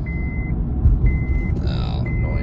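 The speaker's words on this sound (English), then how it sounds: "Oh, annoying seatbelt." Seatbelt warning chime in a 2004 Acura MDX during a test drive, three evenly spaced steady tones repeating about once a second over low engine and road rumble inside the cabin.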